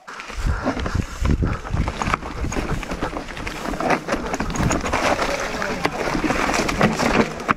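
A Surron electric motorbike splashes through a mountain river, with continuous churning water and wind buffeting the microphone; a voice shouts briefly over the noise.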